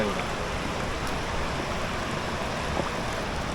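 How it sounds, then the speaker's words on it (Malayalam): Water trickles and flows steadily over rocks along the Karamana River at Ayiravalli, a dense, even rushing wash filling the short stretch with no voices. "ദൂരെ നിന്ന് വെള്ളം ഇങ്ങനെ ഒലിച്ചിറങ്ങുന്നുണ്ട് ചെറുതായിട്ട്. ഇതിനപ്പുറത്ത് ഇച്ചിരി ശക്തമായിട്ട് ഒഴുകുന്നുണ്ട്."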